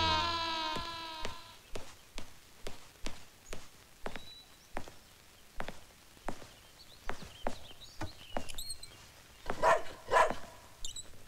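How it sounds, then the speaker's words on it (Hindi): A dog barks in short, regular bursts, a dozen or so sharp yaps at a steady pace, moderately close against a quiet background. "ये रोमियो क्यों भौंक रहा है?"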